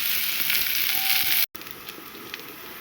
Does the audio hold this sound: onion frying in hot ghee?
yes